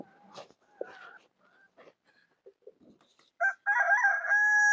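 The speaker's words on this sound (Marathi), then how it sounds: "कोंबड्याचा चांगला दिवस उगावला त्याने नऊ वाजता" A rooster crows loud and close in a rural kitchen where buttermilk kadhi is being cooked on a wood-fired chulha, its long ringing call coming at the end after quiet scattered kitchen sounds and soft voices.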